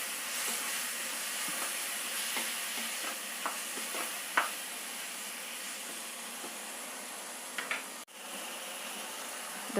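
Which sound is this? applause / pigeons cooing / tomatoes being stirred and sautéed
tomatoes being stirred and sautéed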